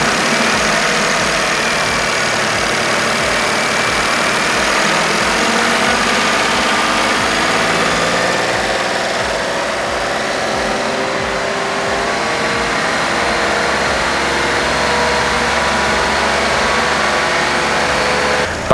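A car engine is held at raised revs for an oxygen sensor check, giving a loud continuous drone that stays steady throughout at close range, with no talk.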